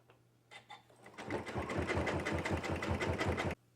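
Sewing machine stitching down a fabric strip for a jelly roll rug, starting with a few short bursts and then running in a steady rapid rhythmic chatter for a couple of seconds before stopping abruptly, close and clear.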